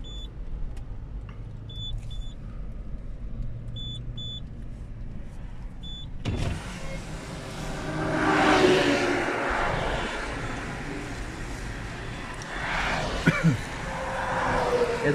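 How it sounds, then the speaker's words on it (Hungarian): A car driving slowly along a road in a Cambodian sculptor village: a quiet cabin with faint beeps, then a rushing, rumbling swell of road and engine noise as the window opens, rising and falling. "szép lassan megyek az autóval"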